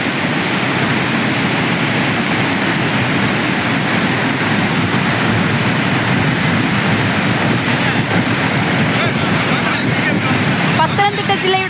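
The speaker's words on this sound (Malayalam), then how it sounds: "കുറ്റാലം വെള്ളച്ചാട്ടത്തിൽ നീരൊഴുക്ക് കൂടിയതിനെ തുടർന്ന് സഞ്ചാരികൾക്ക് വിലക്ക് ഏർപ്പെടുത്തി" Kuttalam waterfall in heavy flood flow after strong rain makes a dense, continuous roar of falling water, loud and unbroken throughout.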